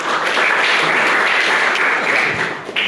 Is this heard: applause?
yes